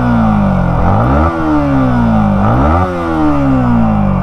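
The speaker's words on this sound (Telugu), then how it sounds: "ఎగ్జాస్ట్ సౌండ్ విన్నారు కదా" A Yamaha MT 15 V2.0 with a liquid-cooled 155cc four-valve engine revs loudly up close, its exhaust pitch climbing and falling twice in smooth sweeps over a steady idle, with no talking.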